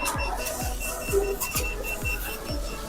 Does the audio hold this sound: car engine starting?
no